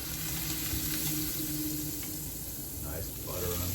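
Butter sizzles and crackles in a steady hiss on a hot waffle iron, a continuous frying sound with faint kitchen noises at the end.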